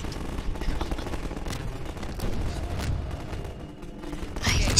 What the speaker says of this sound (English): We gotta shoot the rocket tripods and those, and those things.